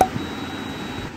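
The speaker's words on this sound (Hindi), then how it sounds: "blood pressure monitor fully automatic upper arm style" An automatic upper-arm blood pressure monitor gives one short, clear beep at the very start, followed by a faint, steady high tone that runs under quiet room hiss.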